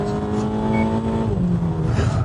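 A robotic self-driving car races around a track at about 80 mph, its engine a loud, close sustained roar whose pitch sweeps downward and then climbs again as it shifts or slows.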